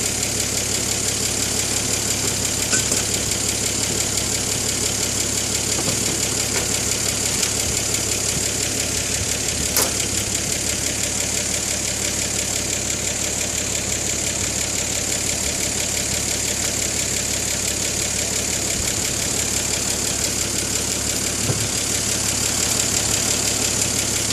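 A car engine idles steadily, its generator charging the battery, giving a constant near hum and mechanical whir with a faint rhythmic knock and no change in speed.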